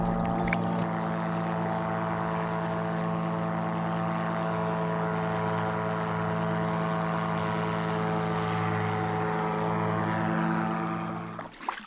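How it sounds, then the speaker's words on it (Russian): An airboat engine drones on the Lemva river, heard from a kayak as a steady propeller hum with strong harmonic tones, continuous and fairly prominent, fading slightly at the end. "И уже где-то вдалеке послышались звуки аэролодки."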